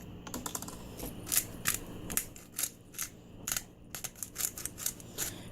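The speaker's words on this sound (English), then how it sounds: "Grind some pepper in there." A pepper grinder cracks peppercorns over homemade guacamole in a kitchen, giving close, irregular bursts of crisp crunching clicks with no talking.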